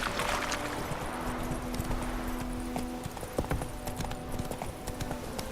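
Roach, a horse in The Witcher 3, gallops with a steady, rapid clip-clop of hooves at close range, the rhythmic beats continuing throughout under faint background ambience.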